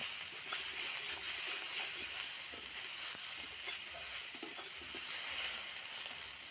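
Spice masala for a vegetarian curry stir-frying in a pan, a soft, steady sizzle with faint stirring scrapes and no talking.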